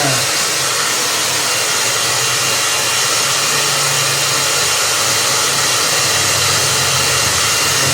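A blower drying a chicken gives a loud, steady air roar with a hum, running continuously and close by with no voices.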